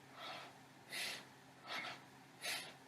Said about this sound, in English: Nice, powerful breathing.